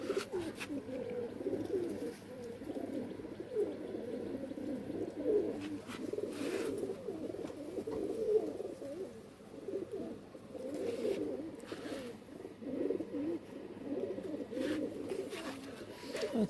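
Local Giribaz pigeons from Rajshahi coo continuously in a loft, several birds overlapping in soft, rolling low calls at moderate distance, with faint background noise and no clear speech.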